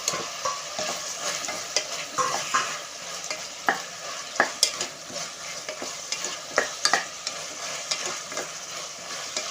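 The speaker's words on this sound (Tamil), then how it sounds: "இப்போ என்ன பண்ணுறோம், மஷ்ரூமை போட்டு வரும்." Mushrooms fry and sizzle in a pot for mushroom biryani, with repeated scraping stirs and clinks of a utensil, fairly close and without talk.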